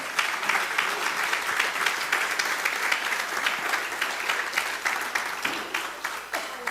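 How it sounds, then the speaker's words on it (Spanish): Steady, full applause from a church congregation, a dense wash of many hands clapping continuously for several seconds before starting to thin out at the end. "Denle un aplauso al Señor."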